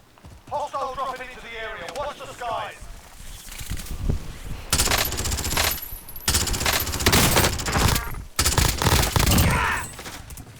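Rapid bursts of close, loud gunfire from a P90 in Call of Duty Warzone, several volleys in quick succession with brief gaps, mixed with excited voices talking over the action.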